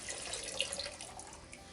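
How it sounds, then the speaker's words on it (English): Water running from a tap after flushing a water filter system, a steady faint splashing stream heard briefly and alone. "we'll turn off the water"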